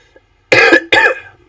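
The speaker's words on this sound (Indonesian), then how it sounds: "Maaf, sedikit batuk." Two sharp, close coughs in quick succession from a man pausing while presenting a data science tutorial, loud against an otherwise quiet room.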